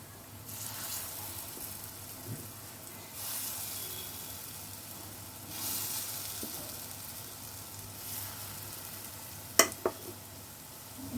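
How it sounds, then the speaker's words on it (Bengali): Lentil fritters (bora) frying in hot oil: a faint, steady sizzle that swells and eases in waves, with a couple of sharp clicks near the end. "বড়াগুলো ভেজে নেবো।"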